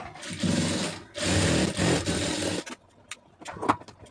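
A sewing machine stitches a blouse lining in two close, loud, steady runs of stitching, then stops, leaving scattered soft clicks and handling noises.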